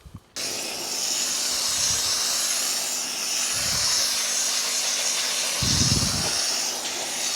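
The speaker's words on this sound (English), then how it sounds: "And this steam is just loosening up all the dirt and grime that's stuck into this upholstery" A steam cleaner hisses steadily on the upholstery of a 2007 Subaru WRX interior, a loud continuous broadband rush with a few low thumps beneath it, after a brief quiet start.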